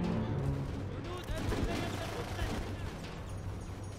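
Gunfire from a squad firefight in Full Spectrum Warrior crackles as a fusillade of shots under a steady low battle rumble, with voices faintly mixed in.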